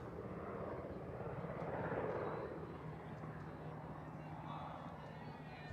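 Helicopter approaching and passing over a baseball park field, a steady broad rotor and engine rumble at moderate distance with people talking over it throughout.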